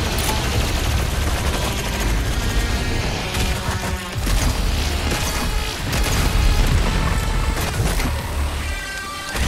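Rapid gunfire from the shooter game DOOM Eternal, loud and dense, with bursts of shots mixed with mechanical clanks and booms, running almost without break.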